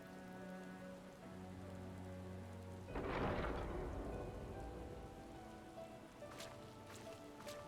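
A thunderstorm in the video game Final Fantasy XIV: steady rain patters over held music tones, then a deep rumble of thunder rolls in and slowly fades while the rain continues.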